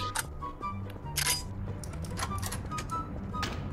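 Sharp, crisp clicks repeat irregularly during play of a low-rated horror video game, some louder and closer than others, over a steady low background hum.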